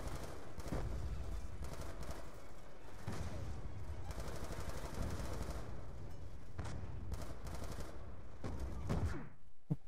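Sustained gunfire and a booming grenade blast fill a Call of Duty Black Ops 2 firefight, continuous loud rattling shots with heavy low rumble throughout, no talk over it.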